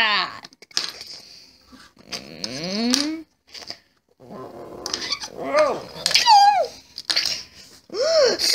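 A LEGO robot dog in a cartoon growls and snarls in several rough bursts with sweeping, warbling cries between them, close and fairly loud, separated by brief quiet gaps.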